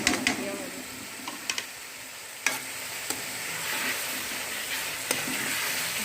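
Chicken sizzling and frying with potatoes in a pot for chicken yakhni pulao, a steady crackle with a few sharp clicks of a spoon or pan, fairly quiet and close.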